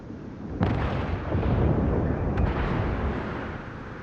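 A German Hipper-class heavy cruiser fires its main guns in a naval battle game, giving a sharp boom followed by a long rumbling roar that fades slowly, with a second, fainter report partway through.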